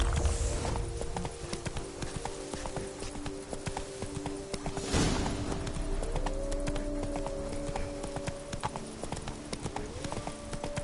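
Hooves of Roach, the horse in The Witcher 3, clip-clop in a steady galloping rhythm throughout, with game music and ambient sound underneath and a brief louder swell midway.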